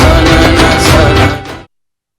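An audience at a school annual function breaks into dense, loud applause for about a second and a half before cutting off abruptly into silence.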